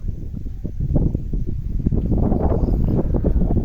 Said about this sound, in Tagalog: sarap ng simoy ng hangin dito